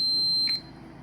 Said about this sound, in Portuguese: Então eu coloquei aqui o multímetro na escala de continuidade,